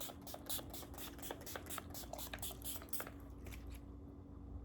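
Several quick bursts of Bath & Body Works fine fragrance mist spray, hissing in a rapid series close by, with no talking.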